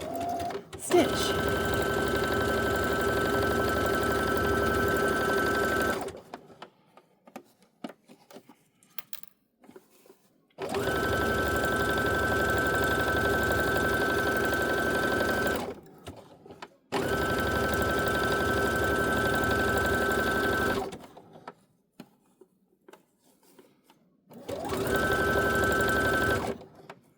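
A sewing machine stitches quilt fabric in four long, loud bursts of steady rapid whirring, separated by quiet pauses with faint handling sounds.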